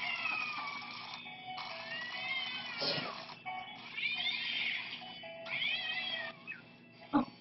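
A cat meows repeatedly at close range, with long drawn-out, wavering cries in a steady run of calls and brief pauses between them, and no talking over it.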